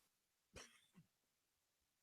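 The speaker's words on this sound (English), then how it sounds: "A quick cough." A single short cough, fairly close, followed by a faint second sound and then near silence.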